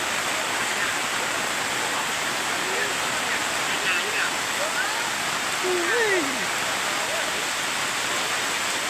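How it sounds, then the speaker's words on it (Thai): Steady rain pours down on a rubber plantation, a constant even hiss with no breaks, while faint bird calls rise over it now and then. "เอ้ยฝนตก"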